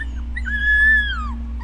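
A lone female coyote pup, stuck in a stump hole apart from her litter, whimpers in a thin, rising and falling cry that stretches into a brief, plaintive howl, close and clear over a low steady hum.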